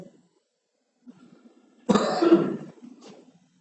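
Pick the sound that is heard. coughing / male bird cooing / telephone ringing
coughing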